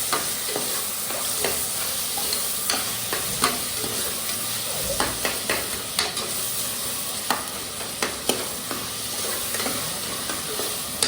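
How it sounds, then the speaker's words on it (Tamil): Chopped tomatoes sautéing in a pan for vegetable rice, with a steady sizzle punctuated by repeated scraping and stirring clicks of a spatula, close and alone without talk. "கொஞ்சம் வதக்கி விடு. அது கொஞ்சம் வதக்கட்டும்."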